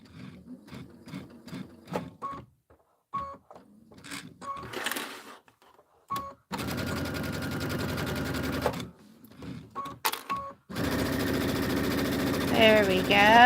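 A sewing machine stitching a Kimberbell pillow runs in loud bursts: short stitch runs with pauses, then two long steady whirring stretches. A person speaks between the runs.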